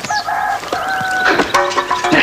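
Close, loud turkey calls, clucking and sharp cries, with a few quieter sounds around them.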